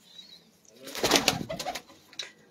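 Breeder pigeons cooing and rustling close by, a short burst of soft calls and wing flutter rising in the middle, then fading with a brief final call.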